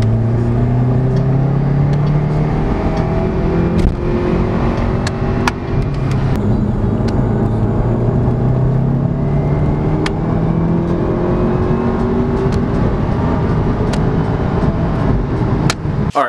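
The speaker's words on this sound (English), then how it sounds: "I'll obviously show you guys the third gear pull" A VW MK7 GTI pulls hard in third gear, its engine drone rising steadily in pitch as it accelerates, loud and continuous from inside the car with no talking.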